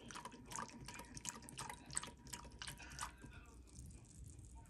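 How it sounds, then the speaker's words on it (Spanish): A cup of room-temperature water poured into dissolved gelatin while making milk gelatin, heard as a quiet run of dripping, trickling splashes that tails off after about three seconds, close and fairly soft. "ahora le voy a agregar el agua. Una taza de agua."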